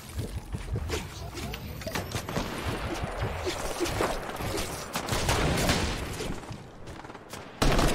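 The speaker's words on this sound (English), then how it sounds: "Oh, they're regular AK shot too." AK rifle gunfire in the Fortnite video game comes as a dense string of shots with some clustered bursts, moderately loud, over busy in-game background noise.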